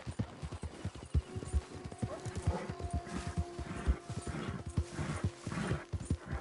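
Horse hooves clip-clop at a steady gait in the video game Red Dead Redemption 2, giving a close, rhythmic run of clear thuds.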